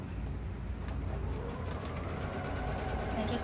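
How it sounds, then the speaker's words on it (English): A sewing machine runs steadily, stitching straight through elastic for track pants in a continuous hum with faint rhythmic needle ticks, close up and without a break for the whole stretch. "I'm going to sew a couple stitches, set it so it locks down, and stretch it out, and just sew right through the elastic"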